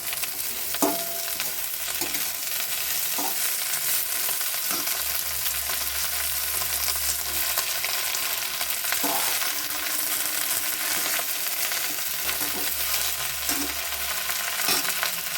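Bottle gourd greens with four cut green chillies sizzle steadily in hot oil, a continuous frying hiss broken by occasional soft stirring knocks, close and alone with no talk.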